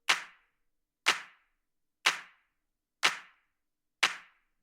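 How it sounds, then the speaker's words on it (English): Layered clap samples from a minimal techno track, five crisp identical hits spaced about a second apart, loud and dry with nothing else playing. "clap sounds coming in."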